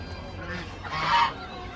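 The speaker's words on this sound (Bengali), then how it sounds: "এই যে হাঁস" Ducks at a live animal market in Dimapur, Nagaland give a short, loud honking call that swells in the middle of the clip over busy market background noise.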